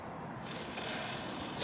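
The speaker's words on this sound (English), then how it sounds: "spray grease on top." Spray grease hisses from an aerosol can onto new car battery terminals of a Land Rover Freelander 2, a steady close spray building up and lasting about a second.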